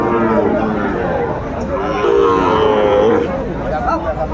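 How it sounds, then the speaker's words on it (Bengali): A Sahiwal bull calf at a busy cattle market lets out a long, loud low moo that rises and wavers, while people chatter and talk over it in the background. "চমৎকার চমৎকার শাহিওয়ালের ষাঁড় বাচ্চা।"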